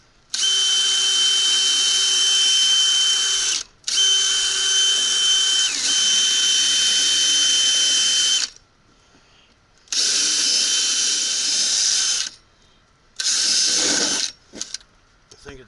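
A power drill with a dulling bit whines in loud, sustained bursts while installing return ducts, stopping and restarting several times with short pauses between runs.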